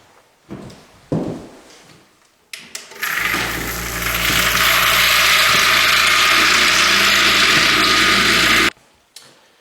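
Brass rifle cases for .223 handloads tumble in a case tumbler with dry sawdust, a loud steady churning rattle that starts after a few seconds of handling noise, runs unbroken for about six seconds, then cuts off.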